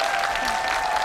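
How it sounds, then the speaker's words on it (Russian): Studio audience applause on a Russian television quiz show, a steady dense wash of clapping from a large crowd, even and sustained throughout. "Мы прощаемся с тобой под ваши аплодисменты."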